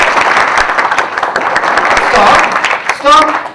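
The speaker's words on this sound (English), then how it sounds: "Whenever I say the word clap, you are supposed to clap." An audience at an Art of Living introductory talk claps together on cue, a dense burst of applause that fades, followed by a voice speaking near the end.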